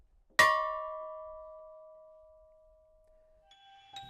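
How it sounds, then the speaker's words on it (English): A single memorial bell for the Edmund Fitzgerald's lost crew strikes once and rings out with a long, slowly fading tone, followed by a fainter second chime near the end. "as the bells chime for each man lost in the sinking of the Edmund Fitzgerald"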